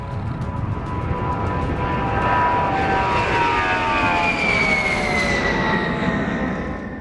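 A US Air Force A-10 attack jet passes overhead, its loud engine roar and whine sliding down in pitch as it flies by, close and continuous for several seconds with no talk.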